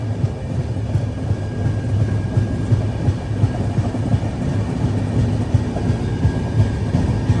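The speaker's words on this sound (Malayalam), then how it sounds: "ട്രെയിൻ ഇപ്പോൾ ബയ്യപ്പനഹള്ളി റെയിൽവേ സ്റ്റേഷൻ സ്കിപ്പ് ചെയ്യാണ്." Uday Double Decker train running through Baiyappanahalli railway station without stopping, a loud, steady rumble of wheels on rails with faint rhythmic clatter, heard from on board.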